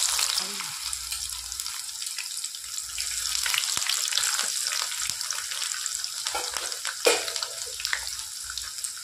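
Onions fry in a pan for a chicken curry, giving a soft, steady sizzle broken by stirring scrapes, a few light clinks and one sharper knock late on.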